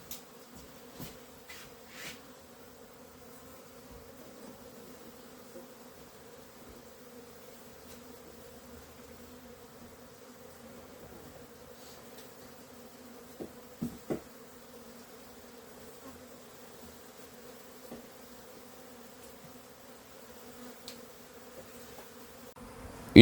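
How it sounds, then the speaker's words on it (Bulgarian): Honey bees buzzing over a hive yard as a swarm passes, with a steady, low, continuous hum throughout and a few faint clicks and brief knocks in the quiet outdoor setting. "сигурно над пчелина е минавал някой рояк"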